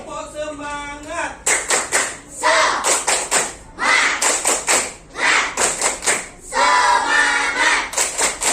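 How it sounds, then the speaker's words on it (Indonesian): A classroom of children claps out a rhythmic group cheer in Indonesia, sharp patterned bursts of hand claps trading with short chanted calls, close and loud, with a teacher's voice at the start. "Tepuk semangat."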